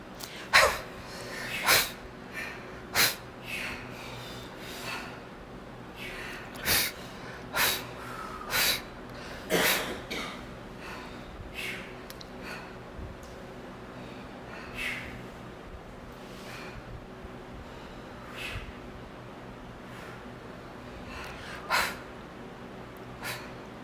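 Deep meditation breathing, a series of close, sharp inhales and exhales spaced a few seconds apart over a quiet background, denser at first and sparser later, with no speech.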